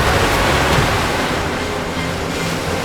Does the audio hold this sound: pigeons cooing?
no